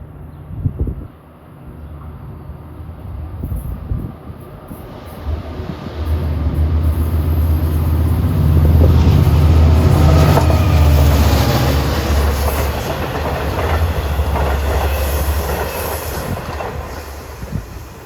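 A Long Island Rail Road commuter train rumbles past Woodside station at speed, loud and close, the roar building and holding with rattling wheels and a faint high squeal before easing slightly.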